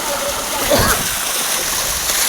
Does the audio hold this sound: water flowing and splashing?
yes